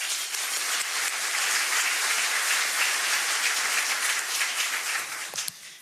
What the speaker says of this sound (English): let's give our head table a round of applause, please